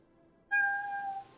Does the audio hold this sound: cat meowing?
yes